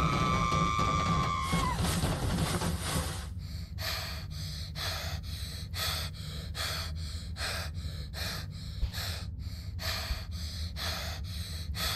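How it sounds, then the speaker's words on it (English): Heavy, rhythmic breathing from a character in the horror game Find Yourself, set in a basement, with loud repeated breaths and gasps pulsing steadily over a low ambient drone. "God, this kid is breathing heavy."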